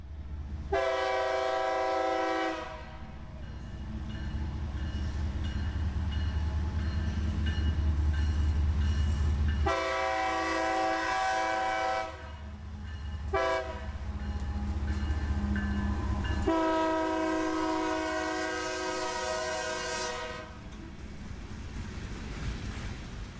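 CSX 1871 freight locomotive, in ACL heritage paint, rumbles closer notching up with a deep engine drone while its horn sounds three long, loud blasts separated by pauses.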